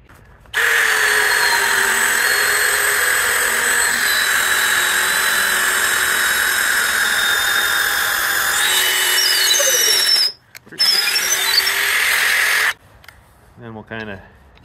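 A power drill bores holes into a wooden post for a feed bunk build, a loud sustained high whine running near and steady for about ten seconds, briefly stopping, then resuming before cutting off.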